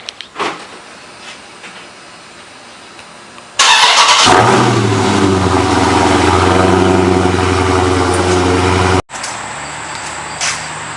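Dodge Charger Scat Pack with Dynomax Mini Race Bullets in place of the mid muffler, starting up loud and close, then idling with a deep, rumbling exhaust burble for several seconds before a sudden cut.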